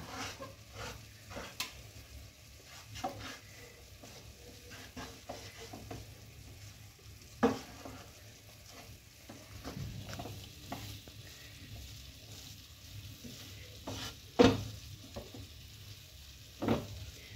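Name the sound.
stirring rice flour into a soft dough in a pan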